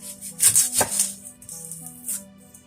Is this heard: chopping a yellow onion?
yes